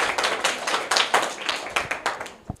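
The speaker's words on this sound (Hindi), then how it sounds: "जोरदार तालियां इनके लिए।" A crowd claps loudly and steadily for a correct answer at a quiz, dense overlapping hand claps close by, tapering off at the end.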